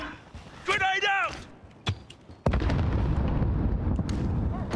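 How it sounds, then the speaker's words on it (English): A grenade explodes in the video game Warzone: after a brief spoken voice, a sudden loud blast erupts and sustains as a broad, rumbling roar through the remaining seconds. "Grenade out!"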